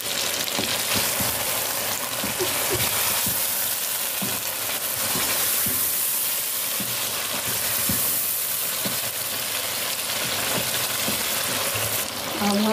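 Spices hitting hot oil in a chicken karahi, with a steady, loud sizzle and frying hiss that carries on throughout, broken by the occasional clink or scrape of stirring.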